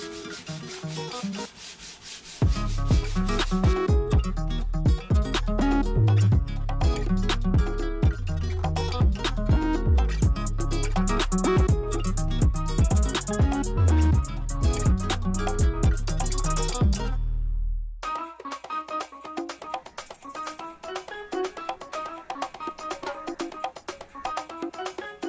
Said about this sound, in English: Chopstick is tapered using 80 grit sandpaper, one end is 10 mm square and the other end is 5 mm square.